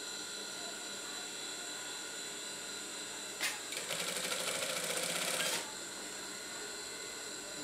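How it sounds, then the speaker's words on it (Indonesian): A sewing machine stitching a gamis robe runs in one short burst of about two seconds, fairly close and steady, surrounded by quiet room tone. "Nah, kita jahit pelan-pelan."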